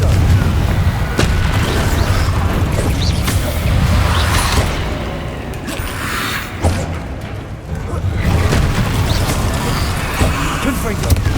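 Confringo fire spell blasts in the video game Hogwarts Legacy, loud booming explosions and whooshing impacts in a dense combat mix with heavy low rumble, punctuated by thuds, with a voice speaking throughout.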